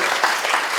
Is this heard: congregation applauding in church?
yes